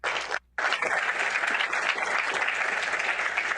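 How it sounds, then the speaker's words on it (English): An audience gives warm applause to the panelists at a talk on the future of marriage and family, dense sustained clapping from a full room after a brief gap at the start. "Everyone, please give a warm round of applause to our panelists."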